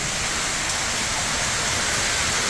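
Steady rushing warm water fills the space with a broad, continuous hiss, flowing through a cave-like feature on a cruise ship's top deck.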